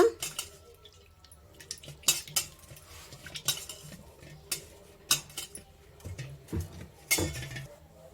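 Peeled tomato mashed by hand in a bowl for a vegetable curry, with soft wet squelches and repeated clinks of a spoon against the dish, in irregular bursts close by.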